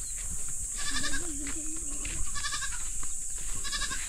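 A goat bleats repeatedly in wavering cries over steady background hiss and noise, fairly close, with no clear speech.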